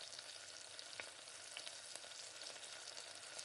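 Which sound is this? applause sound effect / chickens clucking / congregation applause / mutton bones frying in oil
mutton bones frying in oil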